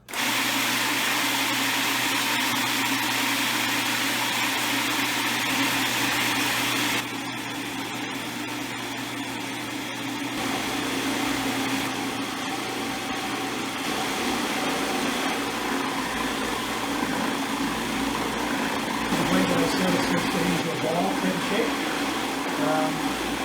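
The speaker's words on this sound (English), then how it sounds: "you keep letting it grind for another minute or two after that until it's what looks like essentially a liquefied form." A machine grinding peanuts into liquefied peanut butter, a steady loud motor whir and churning drone running throughout, with a slight change in pitch partway through and speech over it.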